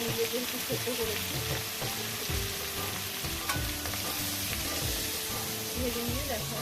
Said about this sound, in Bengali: হাফ সেদ্ধ এঁচড়টাও ভেজে নেব।